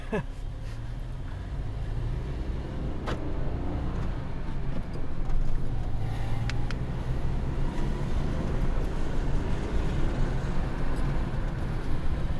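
A Ford car converted to run on CNG drives along with a steady, continuous engine and road drone throughout, sounding fairly near and even in level.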